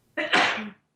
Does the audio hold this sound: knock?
no